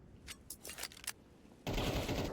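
Bursts of automatic gunfire sprays in a Counter-Strike match on the Train map, several short rapid volleys in quick succession, then a dense, loud wash of sound takes over near the end.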